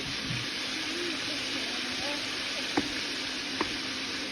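Meat browns in a pan with a steady, close frying sizzle throughout, a couple of brief clinks standing out near the end.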